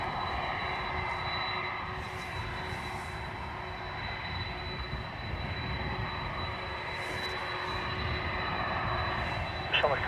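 A Qatar Airways jet takes off from runway 10 right at Dublin Airport, a broad, steady engine roar heard from a distance that holds throughout, with a faint radio voice in the background.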